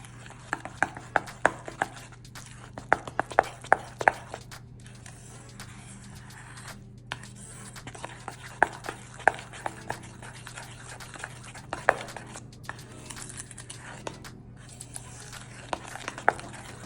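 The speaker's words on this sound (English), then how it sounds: "So mix that together thoroughly and try to get rid of the clumps" Brown monk fruit sweetener is stirred thoroughly into apple pie filling in a bowl, with repeated sharp clicks and scrapes of the utensil against the bowl over a low steady hum.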